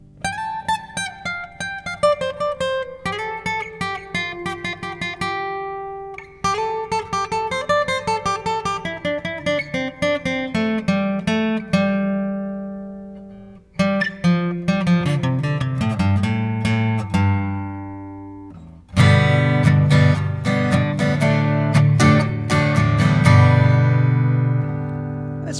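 Guitar riff worked around open chords, including G, played as one flowing passage of ringing strummed chords and single-note melodic runs, with a fuller, louder strummed section near the end; no talking.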